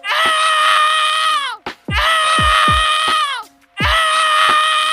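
A man screams over the phone in three long, loud, strained bursts, with the first and second cut by a sharp intake of breath and a short gap before the third.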